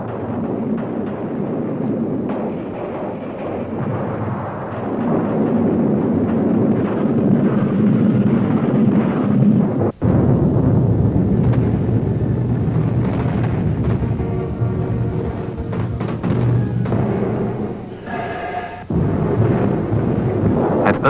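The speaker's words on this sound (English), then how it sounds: "they unleashed a barrage of 600 guns and mortars" An artillery barrage of massed guns and mortars at the Battle of Kursk rumbles as continuous, rolling booms and low thunder, with a sharp break midway and heavy blasts building again.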